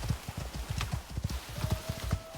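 A horse in the survival game Icarus trots with brisk, regular clip-clopping hooves, close and steady across the whole stretch, while a faint tonal whine runs through the second half.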